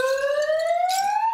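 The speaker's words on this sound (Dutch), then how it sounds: "Staat sirene." A fire alarm siren wails loudly and continuously, a single pure tone rising steadily in pitch, close and alone with no talk.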